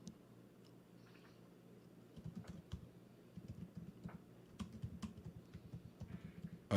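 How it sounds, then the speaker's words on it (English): Quiet typing on a computer keyboard, a steady run of soft close clicks and taps that picks up in density partway through, alone without talk. "Still typing."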